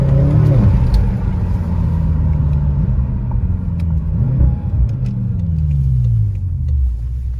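A 560-horsepower sports car engine rumbles loudly and close, rising and falling through several revs as the car accelerates, with a deep steady growl throughout.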